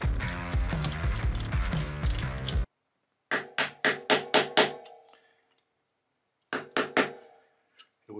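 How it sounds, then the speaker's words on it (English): A wood chisel is struck against a part on a KTM 690/701 SMC R motorcycle build, giving a quick series of five sharp metallic taps, then a gap and two or three more, loud and close with no talk. "It wouldn't be a CHOPS project if the wood chisel didn't come out."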